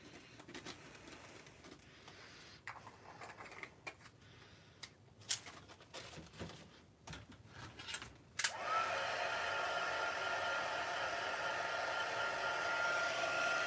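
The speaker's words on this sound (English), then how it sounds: "So I'm just heating this. My heat tool wasn't warm, so it's gonna take a moment." An embossing heat tool starts up partway through with a steady, close whooshing blow of hot air over cards dusted with embossing powder, preceded by quiet handling clicks and faint background bird cooing, with no talk.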